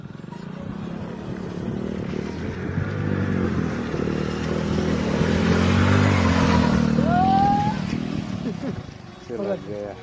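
A motorbike rides across sandy ground by a river, its engine droning steadily at moderate distance and swelling louder midway, with people talking over it.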